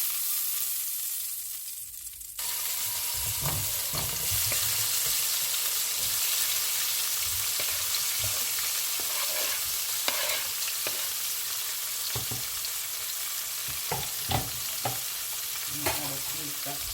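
Onion, tomato and bell peppers hit hot oil with a sudden loud sizzle that keeps hissing steadily, broken by occasional scrapes and clinks of stirring.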